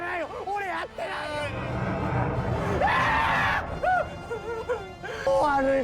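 A man in a film, Crows Zero, screams in fear, pleading with rising and falling panicked cries, loud and close, with other voices and a brief burst of scene noise around him.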